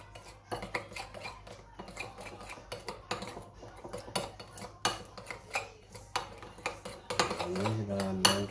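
A spoon clatters and scrapes against a bowl while sambal for goat satay is stirred, giving irregular metallic clinks and knocks at close range with no talk over them.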